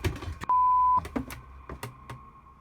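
Steady electronic censor tone cuts in for about half a second over a man's swearing indoors, surrounded by his loud, clattering movement and voice fragments.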